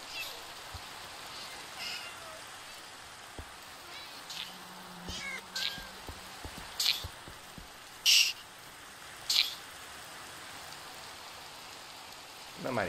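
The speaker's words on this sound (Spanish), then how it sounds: "Otro gato." A cat in Minecraft meows in a few short, clear calls spread through the clip, over steady rain and faint background sounds.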